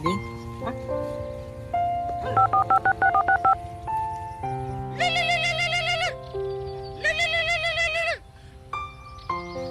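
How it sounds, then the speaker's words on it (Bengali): A phone being dialed: a series of keypad tones, some rapid beeps and longer touch-tone bursts, with faint chatter beneath. "দাঁড়া একটা ফোন দি"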